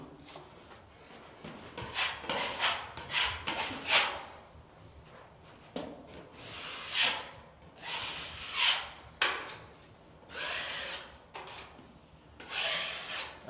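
A stainless steel spatula scrapes filler across a wall in a series of close, rasping strokes, each a short bright scrape separated by brief pauses.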